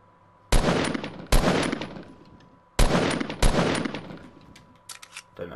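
Four loud, sharp bursts of gunfire in Fortnite, each cracking sharply and then fading, fired in two pairs with short gaps and quieter pops near the end.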